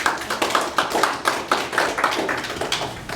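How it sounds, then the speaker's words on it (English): An audience at a mentalist's motivational talk gives a round of applause, a steady crowd of claps in a quick, even rhythm at moderate distance with no talking. "Folks, give them a round of applause"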